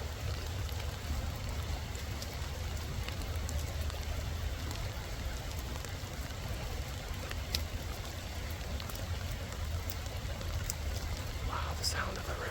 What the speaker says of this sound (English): The sound of the river and the raindrops together is so soothing.